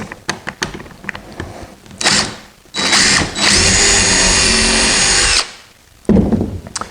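A power drill drives framing screws into a wooden tray on a cork bulletin board, a few short bursts followed by one long sustained whir of several seconds, then a brief final run, close and loud.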